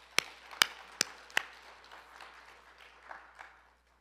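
A church congregation claps in a worship service: four sharp, loud claps close by, then a thinner spatter of fainter clapping that fades away into quiet.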